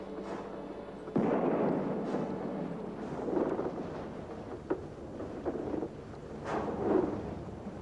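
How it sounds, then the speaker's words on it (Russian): Ship's bow cannon firing a salvo in a 1996 period drama, heard as a few deep muffled booms and rumbling blasts with wind-like roar between them, moderately loud with no talk. "Дайте залп из носовой пушки."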